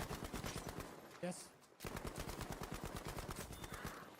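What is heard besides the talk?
SMG gunfire in Black Ops 6 Zombies video game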